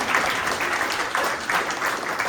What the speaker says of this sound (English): let's give Andy a round of applause for that